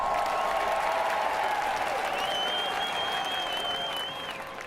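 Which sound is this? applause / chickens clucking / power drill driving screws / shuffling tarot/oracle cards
applause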